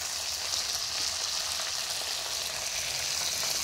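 Steady, loud sizzling of chopped mint leaves frying in oil in a pan while mutton biryani is being cooked, a continuous hiss heard up close with no talking.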